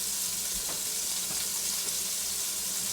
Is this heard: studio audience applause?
no